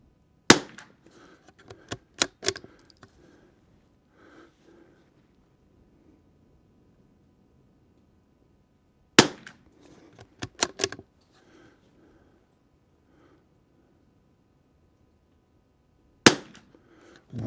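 A Tikka T1X bolt-action rifle firing Eley match ammunition outdoors in high wind, sharp isolated cracks heard at a distance, each followed by faint mechanical clatter, spaced several seconds apart.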